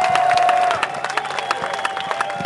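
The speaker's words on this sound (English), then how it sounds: "I want to ask the fans to give you and Coach Whisenhunt and the whole team a round of applause" Fans at a 2009 Arizona Cardinals Pro Bowl jersey presentation applaud the NFC champion team, with loud clapping and cheering that fades after under a second into scattered claps and a lone whistle-like tone.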